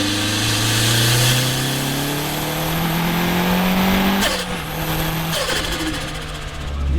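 A Renault Clio 182 turbo hatchback accelerates hard, its engine note climbing steadily through the revs, then dropping sharply at a gear change before pulling again, loud and close from onboard.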